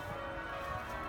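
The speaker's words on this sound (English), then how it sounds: "But that bell's interrupting me." A bell ringing in a steady, sustained tone, faint and continuous throughout with no talking.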